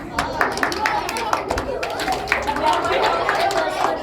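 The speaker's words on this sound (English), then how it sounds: "A huge hand of applause" An audience at a classroom art-learning session gives a round of applause, crisp close claps over steady crowd chatter and voices throughout.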